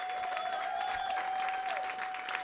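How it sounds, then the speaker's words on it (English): Audience applause at a live conversation event honoring a Broadway performer, dense continuous clapping from a crowd throughout, with a sustained tone running underneath. "Please give her another big round of applause for Broadway's Jennifer Noble."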